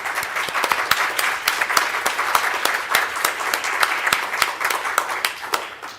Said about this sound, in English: And please, I will ask you an applause for them.